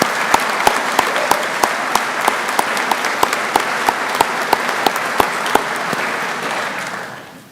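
A graduation ceremony crowd at a technical college applauds veterans, dense sustained clapping with a steady rhythmic beat of sharp claps running through it, fading out at the end.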